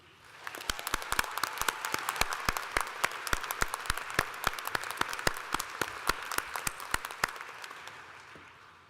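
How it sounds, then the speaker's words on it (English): Audience applause at a fall university commencement ceremony, a dense, sustained round of many hands clapping in a large hall that holds steady for nearly nine seconds before slowly thinning, with no talk over it. "Let us all give a hearty round of applause to those who are graduating today with honours."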